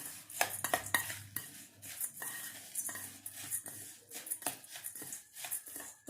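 Chutney ingredients stirred and mixed in a metal pot with a spoon, giving close scraping and clinking strokes in an irregular rhythm, with soft talk in the background.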